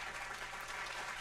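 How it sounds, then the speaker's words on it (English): Applause from an audience, a brief, dense wash of clapping at steady moderate level with no break. "Round of applause."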